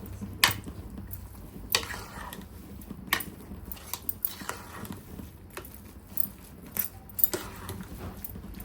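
A ladle mashes cooked rice and chana dal in a pot for akki kobbari payasa, giving soft, irregular scrapes and knocks that recur every second or so, close and fairly quiet with no talking.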